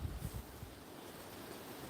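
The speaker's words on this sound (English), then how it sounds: "we've just been getting a few wind gusts coming up" Gusty wind outdoors at a country house buffets the microphone with a steady low rumbling roar, slightly stronger at the start, with no voices.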